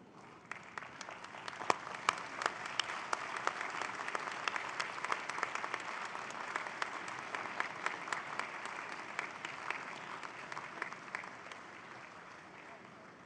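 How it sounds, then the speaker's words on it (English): A graduating class at a spring university convocation applauds families and friends, producing dense, sustained applause from a large crowd that stays steady and fairly loud for over ten seconds before easing slightly at the end. "give them a warm round of applause for supporting your journey"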